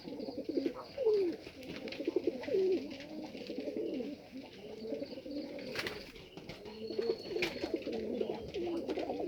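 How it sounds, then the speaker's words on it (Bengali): Pigeons cooing nearby, layered repeated throaty coos from several birds overlapping throughout, with a brief flutter or rustle midway. "ভালো আছে প্রত্যেকের প্রিয় কবুতর।"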